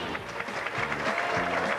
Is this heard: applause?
yes